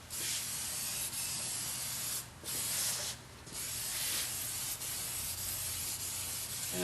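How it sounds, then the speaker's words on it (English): Spray coating being applied to wooden loading blocks, a continuous close hiss of sprayed finish with brief pauses and bursts as the trigger is released and pressed again, no voices. "Got first coat sprayed on these loading blocks"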